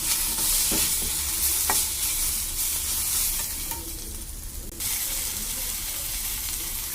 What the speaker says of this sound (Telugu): సోయా సాస్ వేసి ఫ్రై చేస్తుంది